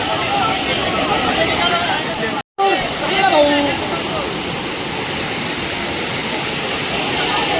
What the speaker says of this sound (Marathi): धबधब्याच्या जवळ आलो आपण आता इथं गर्दी बघू शकता तुम्ही